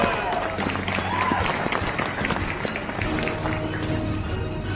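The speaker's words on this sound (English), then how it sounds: "Give him a round of applause." Outdoor audience applauding on a cold afternoon at a political event for a US governor candidate, a dense patter of many hands clapping together, steady and fairly loud throughout, with some crowd voices mixed in.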